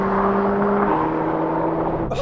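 An Audi RS3 and other performance cars accelerate hard in a drag race, giving a loud, steady engine roar with strong droning tones and rushing wind noise that grows briefly rougher near the end.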